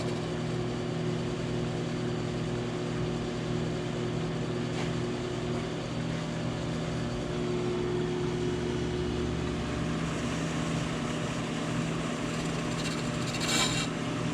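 A brake lathe runs steadily as its cutters are fed slowly into a brake rotor, giving a continuous low mechanical hum with a faint scraping hiss near the machine, without speech.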